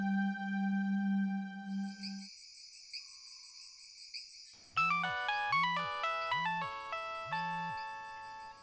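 A mobile phone rings with an incoming call, a bright synthetic melody of repeated chiming notes over a low pulsing tone, preceded by sustained electronic tones, with no voices.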